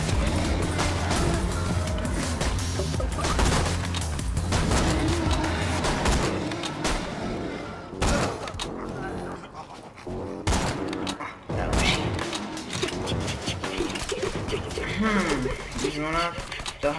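Rapid bursts of pistol gunfire crack in the Borderlands 2 shooter game, firing in clusters among in-game explosions and effects, with a player talking over much of the action.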